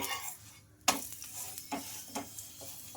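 A rumali paratha roasts on a hot pan with light oil, giving a soft sizzle broken by several sharp scraping presses and turns of the flatbread, close and fairly quiet.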